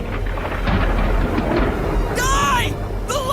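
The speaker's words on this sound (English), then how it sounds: "Call down the lightning!" Thunder from a lightning strike in an anime fantasy battle, a loud, sustained roaring rumble with rain-like hiss, overlaid by brief shouted voices and sharp magical zaps.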